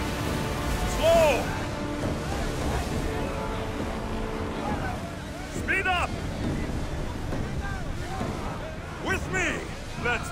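Sailing ship cruising across open sea in the video game Assassin's Creed Odyssey: steady wind and rushing water wash along the hull, with voices calling out over it.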